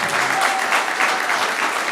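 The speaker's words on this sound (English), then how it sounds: "You're allowing these people to clap." Audience applause fills a planning and zoning meeting room, dense and steady clapping from many people throughout, loud and close with no talk over it.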